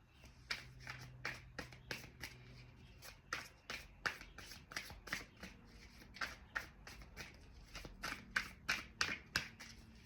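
A deck of tarot cards is shuffled by hand in a quick run of crisp riffling bursts, each a short papery flutter, repeating about a dozen times up close.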